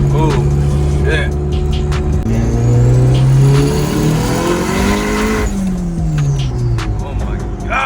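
A turbocharged Honda Civic with a single-cam engine running about 20 lb of boost pulls hard on a highway, engine note rising loud and close through several gear stages as occupants talk over it.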